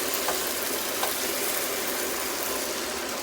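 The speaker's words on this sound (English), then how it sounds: "you can hear the sizzling, that it's even a bigger sound than it was with the chicken, because now you're sauteing dry pasta" Dry orzo pasta sizzling as it is sautéed and stirred in a pan, a steady bright hiss that stays even and continuous, close and moderately loud, with no talking over it.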